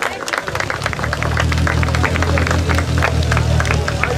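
Spectators clap in a steady mass of applause at a car slalom hillclimb at Gambarie, while a race car's engine drones underneath close by and an announcer's voice talks over the crowd.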